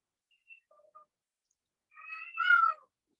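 A pet cat meows indoors, a few faint short chirps followed by one louder drawn-out meow at close range, alone with no talk.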